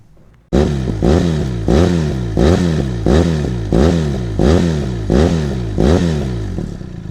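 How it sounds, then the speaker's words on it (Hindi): A Benelli TRK 502X adventure motorcycle engine starts up, then is revved about eight times in a steady rhythm, each loud throttle blip rising and dropping back, heard up close with no talking. "इतना प्यारा साउंड है बाइक का"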